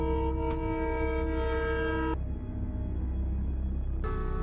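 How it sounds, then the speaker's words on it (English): Train whistle blasting to warn a cow on the tracks, a loud sustained multi-tone horn held for about two seconds, then a pause over the rumbling train before another blast begins. "Here the machinist is trying to warn the cow by the train whistle, but its ending is near."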